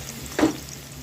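A bowl of onions goes into hot oil and hisses in one short sizzling burst, followed by a low steady background with no talking.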